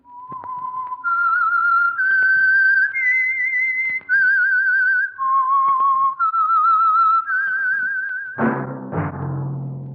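Whistled theme signal of the radio program The Whistler: a lone, clear, melodic whistle stepping through a slow rising and falling tune of held notes, followed by a sudden low orchestral chord at the end.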